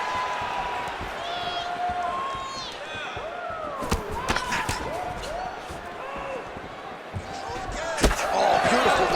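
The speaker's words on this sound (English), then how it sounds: "You hear this crowd just eating out of his hand, oohing and on every time he advances" Arena crowd at a UFC 305 bout between two fighters, a broad murmuring roar that swells into ooh-like rises, with sharp impact thuds and a commentator's voice over it.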